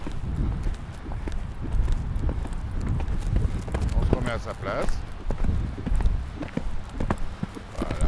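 A horse moves under a rider during a riding lesson, its hooves thudding in a steady, repeated rhythm beneath close coaching speech, with a rustle of wind in the background.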